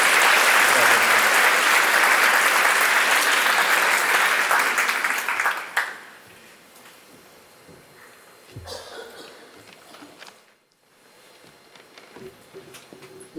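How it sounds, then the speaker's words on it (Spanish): A live audience at a Colombian community forum breaks into loud, sustained applause for about six seconds, then fades to scattered claps and murmuring voices with a few stray noises. "Un aplauso, por favor, de verdad."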